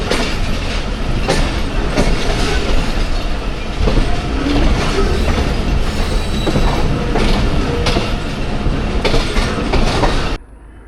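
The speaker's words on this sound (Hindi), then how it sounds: "हज़ारा एक्सप्रेस का भी डिपार्चर हो गया है गुजर खान से" The Hazara Express pulls out of Gujar Khan, a loud close rumble of wheels and carriages with repeated clacks over rail joints and faint wheel squeal, ending abruptly.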